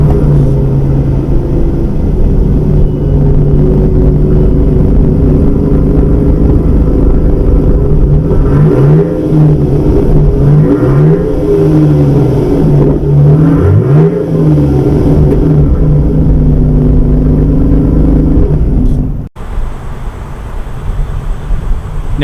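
A 2021 Jeep Grand Cherokee L with a Pentastar V6 idles loudly up close, then revs several times in rising and falling swells before settling back to a steady idle.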